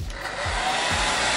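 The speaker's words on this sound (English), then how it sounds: "We can speed the drying process using a hairdryer or a fan." A hair dryer blows on wet glue to dry it, a steady, loud, breathy whoosh with a low rumbling undertone that holds constant throughout, heard alone without any talking.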